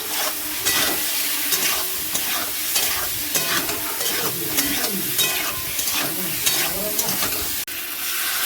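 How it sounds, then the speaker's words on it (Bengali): Potatoes and eggs are stirred into cooked masala in a pan for egg curry, with steady sizzling and repeated scraping strokes of the spoon close by, loud and continuous. "এর মধ্যে আলু ডিম সব একসঙ্গে নেড়ে চেড়ে জল ঢেলে দেবো"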